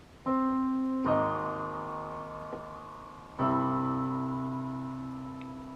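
Piano chords of the Fallout 4 theme played with both hands, a melody note on top, struck twice and left to ring and decay slowly, played alone without speech.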